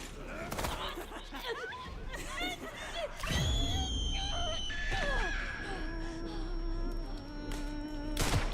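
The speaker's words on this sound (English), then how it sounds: "She's going to scream no matter what." A female enemy in a video game screams with shrill, wavering cries that rise over layered game effects, while someone talks under it.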